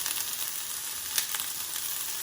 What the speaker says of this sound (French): Et on va les laisser cuire gentiment.